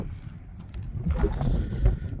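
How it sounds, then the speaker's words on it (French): Gusty wind buffeting the microphone outdoors in the Blayais area, a low rumbling roar that swells and dips over a couple of seconds. "Ouais, il y a du vent là."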